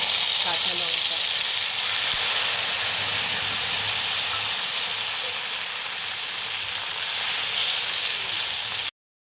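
Cumin and ginger paste with spices frying in hot oil gives a loud, steady sizzle and hiss that runs unbroken and then cuts off abruptly near the end.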